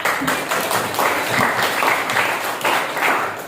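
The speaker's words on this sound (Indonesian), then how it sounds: "Tepuk tangan dulu" Steady applause from a crowd, a dense wash of clapping that continues throughout with slight swells.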